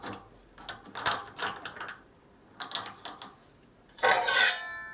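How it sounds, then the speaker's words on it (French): A nut is unscrewed on the arm of a garage door opener, giving scattered close ratcheting clicks and metallic turning sounds in short bursts, then a louder grinding rasp near the end. "on dévisse l'écrou."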